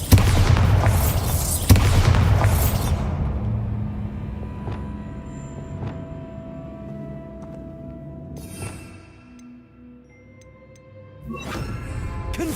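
Bombarda spell blast in the game Hogwarts Legacy, a loud booming explosion with a thick rumbling tail that fades over several seconds, followed by faint ticking and a second burst near the end.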